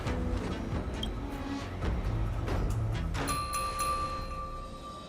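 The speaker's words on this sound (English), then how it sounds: "We could try ringing the harmonic chime." Harmonic chime rung in the video game Honkai: Star Rail, a few soft knocks and shuffles followed by clear sustained ringing tones that hang and slowly fade.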